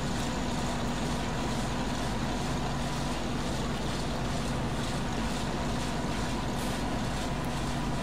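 A Bizon combine harvester drives in Farming Simulator 2013, its engine a continuous, fairly quiet droning hum with a steady tonal note and no breaks.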